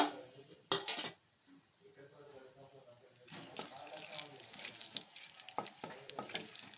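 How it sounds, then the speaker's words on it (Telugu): Biryani ingredients fry in hot oil in a cooker pot and are stirred, with a sharp clank at the start, then sizzling and scraping of a spoon against metal that grow busier toward the end; a faint voice is briefly present. "ఇలా కలబెట్టాలి కొంచెం కలిసేటట్టు"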